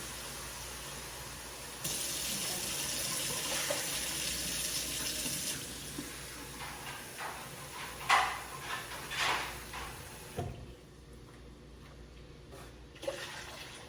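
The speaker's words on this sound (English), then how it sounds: "Now we are going to add our water in there." Running water is poured steadily into a cooking mixture for several seconds, then a few splashes and clunks follow before it goes quiet, with a final faint knock.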